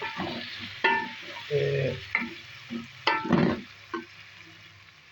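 Onion, garlic and ginger paste masala frying and being stirred in a pan, with repeated scraping strokes and soft sizzling close by, a short word spoken once.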